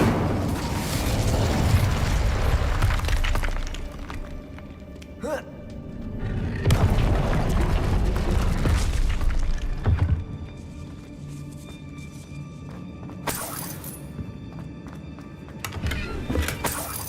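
The Incendio fire spell cast in the Hogwarts Legacy video game, with repeated rumbling whooshing blasts of flame and booms over a continuous noisy game soundscape.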